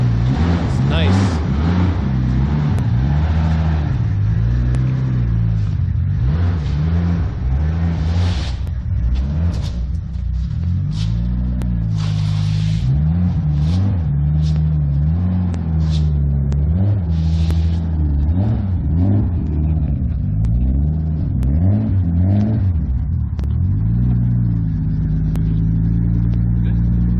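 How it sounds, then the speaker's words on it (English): A JDM Toyota Supra engine is revved repeatedly at close range, its pitch climbing and falling in rumbling bursts while people talk over it. "How high is it letting you rev it?"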